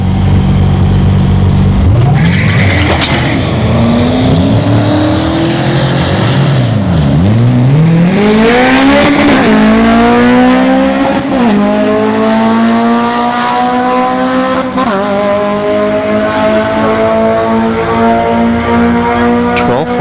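Drag racing cars at Orlando Speed World launching down the strip on a Friday night, loud engines revving and howling with rising pitch sweeps as they accelerate, roaring continuously close by.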